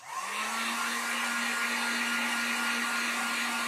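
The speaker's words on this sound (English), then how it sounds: "let me hit this with the heat gun real quick" A heat gun blows hard over acrylic paint on a wooden sign, one steady, close, loud whoosh with a constant whine that holds unchanged throughout.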